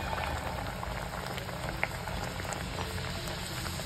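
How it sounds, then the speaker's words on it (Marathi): A potato puri fries in hot oil, giving a dense, steady bubbling hiss close by for the whole stretch, with one small pop midway and no voices. "तेल चांगलं तापलेलं आहे, तर आता पुरी टाकून घ्यायची."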